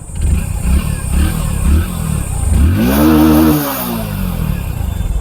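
A Hero Deluxe motorcycle engine, just back from a service, revs up close by in one strong swell that rises, holds briefly and falls back to idle, with no talking over it.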